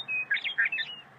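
A meadowlark sings a short, clear phrase of bright whistled notes, moderately close and heard alone, lasting about a second.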